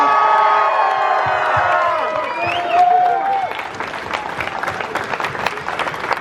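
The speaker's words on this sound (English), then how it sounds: "huge Blade West round of applause for our top 3 flippers of the West Coast Flipping Championship." Loud crowd applause and cheering at a balisong butterfly-knife flipping championship held at a blade show, a dense burst of clapping with whoops rising and then continuing.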